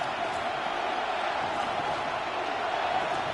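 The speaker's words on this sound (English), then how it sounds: "this crowd making it hard to hear" Dense stadium crowd roar at a football game on a third down, a loud continuous wash of voices that holds steady without breaks.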